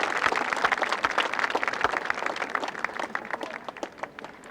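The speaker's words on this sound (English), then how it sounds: "And there the applause for these two fine players to 13." Golf gallery applause at the 1993 Masters final round, greeting two players at the 13th: a steady wash of many hands clapping, moderately distant, fading slightly toward the end with no talk over it.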